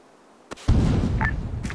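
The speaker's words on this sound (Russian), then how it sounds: "Не входите в зону, я гранату кидаю." A thrown grenade going off: a sharp pop followed by a heavy, rumbling blast that lingers and rolls on through the rest of the moment.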